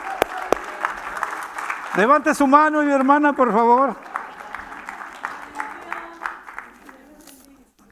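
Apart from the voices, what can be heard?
congregation applauding in church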